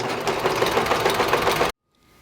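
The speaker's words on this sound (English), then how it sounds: "Now I'm going to stitch just centering this marked line with the center of the foot and letting the machine do all the decorative work" A sewing machine running a decorative stitch along a marked quilting line, a steady fast mechanical whir and chatter heard close up for about two seconds before stopping abruptly into near silence.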